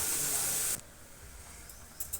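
Loud steady sizzle of a pan frying with salt, turmeric and a little sugar, cutting off abruptly partway through, leaving faint kitchen clatter and small knocks.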